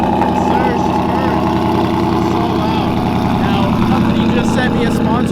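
A 700 whp procharged Ford Mustang fires up and settles into a loud, lumpy idle with a dense low rumble that stays unbroken throughout.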